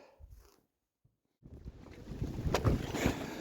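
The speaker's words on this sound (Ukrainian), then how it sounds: "Страшенний вітер у нас сьогодні." Gusty wind roars into the microphone beside a greenhouse after a brief quiet stretch, building into loud, buffeting rushes with a few sharp knocks.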